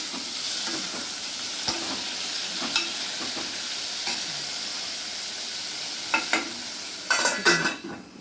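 Tomato cooking in a pan: a steady close sizzle with scattered stirring scrapes and clacks, louder clusters of stirring near the end, no voices.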